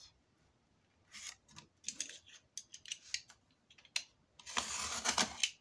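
Scissors snipping through paper while making a square craft album, a few crisp close cuts in short bursts followed by a longer run of slicing, quiet and with no talking.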